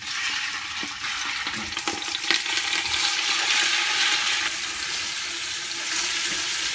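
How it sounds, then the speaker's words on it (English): Chicken pieces frying in hot oil in a pot, stir-fry style, give a loud, dense, continuous sizzle that holds steady throughout, with faint clinks of stirring under it. "Get it nice and hot. And in goes the chicken carefully. Treat it like a stir fry."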